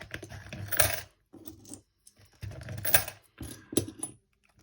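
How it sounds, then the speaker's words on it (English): Pound coins clink and rattle as they are dropped into a container in several short bursts, with brief quiet gaps between handfuls. "And then all the pound coins can go in this one."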